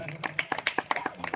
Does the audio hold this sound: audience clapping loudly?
yes